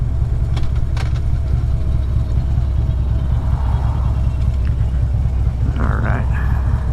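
A 2014 Harley-Davidson Ultra Classic being ridden, its deep engine rumble steady and loud throughout with wind noise, and a voice talking faintly over it.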